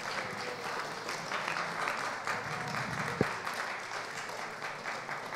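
Steady audience applause fills a studio show set, a dense wash of clapping held at an even level throughout, with a single brief thump partway through.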